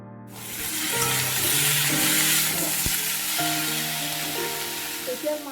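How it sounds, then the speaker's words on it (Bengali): Potatoes fry in hot oil for a fish curry with potatoes and eggplants, making a loud, steady sizzle close by, with a voice talking faintly over it. "আলুটা আগে ভালো করে ভেজে নিচ্ছে তারপরে বেগুনটা দেবে"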